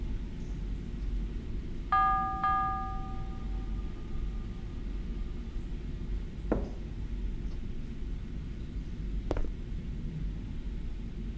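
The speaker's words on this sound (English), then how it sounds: "I don't know if I should be ringing bells in the house." A bell rings inside a house in the Prophecy horror game, two quick tonal strikes close together with a lingering ring, followed later by two sharp, brief knocks or clicks over a quiet ambient bed.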